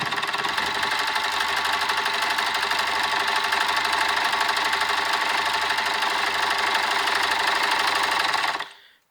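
A sewing machine winds thread onto a bobbin with a fast, even mechanical whir and rapid ticking, loud and steady for several seconds before stopping abruptly at the end.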